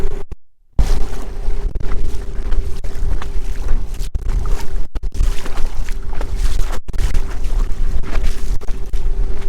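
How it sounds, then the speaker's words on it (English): Strong wind buffets a small dinghy on open water, loud continuous gusting and rushing noise mixed with motor drone, with a brief dropout near the start. "it's a strong wind"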